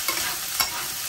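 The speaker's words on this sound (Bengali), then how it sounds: "প্রথমে তেল দিয়ে দিলাম অল্প, তার সাথে আমি কেটে রাখা ভিন্ডিগুলোকে দিয়ে ভালোভাবে ভাজা করে নেব।" Chopped okra frying in a little oil in a pan, giving a steady close sizzle with a couple of brief louder stirring crackles.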